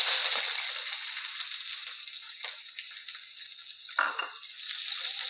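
Onion dropped into hot oil in a kadhai sizzles with a steady bright hiss, with a few soft stirring knocks and a brief crackling burst partway through.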